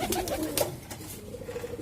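Young pigeons in a loft give soft, low cooing calls nearby, with a few brief rustles or flaps, and no talking.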